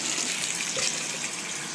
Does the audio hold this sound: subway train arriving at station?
no